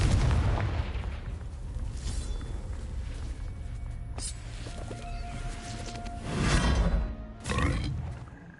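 A Confringo blasting curse from Hogwarts Legacy on PS5 goes off amid a low rumbling game ambience, with two booming bursts, the second short and sharp.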